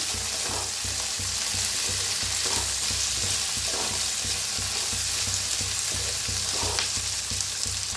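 Peanuts fry in a pan with oil for masale bhat, crackling and sizzling steadily while a spoon scrapes and stirs them in a regular rhythm, close and alone.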